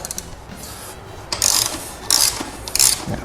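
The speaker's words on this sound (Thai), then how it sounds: "ใช้บล็อกเบอร์ 12 นะครับ เนี่ยใส่เข้าไปนะฮะ หาเหลี่ยมก่อนปุ๊บหลังจากนั้นก็ทำการขันออกมาเลยฮะ" A 12 mm socket wrench loosening the battery bolt under the seat of a Honda Monkey motorcycle gives a few short rasping, ratcheting bursts, close and fairly loud, with quieter metallic fiddling between them.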